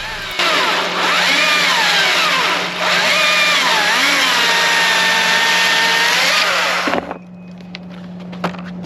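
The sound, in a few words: STIHL 220T battery chainsaw cutting and bogging down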